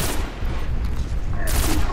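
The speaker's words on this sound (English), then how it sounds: "It's like all kinds of bullets flying every which direction." Dense gunfire in a sci-fi video game, heard as a continuous loud barrage of overlapping shots that stays steady throughout, with no pauses between bursts.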